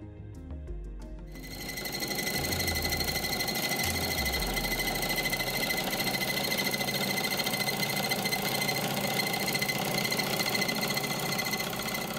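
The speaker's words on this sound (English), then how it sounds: "A drive belt connects the flywheel to the generator." Small demonstration generator turned by a flywheel through a drive belt; a short spin-up is followed by a steady, rapid mechanical whirring and clatter that holds at an even level.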